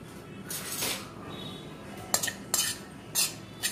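Bread powder being dry-roasted in a pan while a utensil stirs and scrapes it, giving soft scraping and several sharp clinks of metal on the pan, with no one talking.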